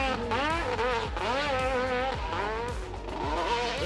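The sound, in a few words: 1000cc two-stroke motorcycle engine revving up hill climb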